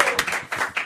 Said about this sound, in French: on applaudit maintenant.